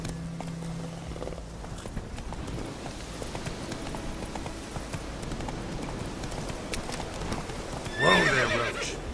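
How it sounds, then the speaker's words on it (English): Horse hooves clip-clop steadily in The Witcher 3 game, a continuous trotting rhythm under ambient game sound, ending with a loud close neigh near the end. "Whoa there, Roach"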